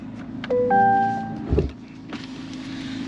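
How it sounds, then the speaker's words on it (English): Power-folding side mirrors on a Corvette C8 Z06 whir inward, a steady electric motor hum lasting about a second, followed by a soft mechanical thunk as they lock into place, heard close up inside the quiet car. "Let's fold in these mirrors."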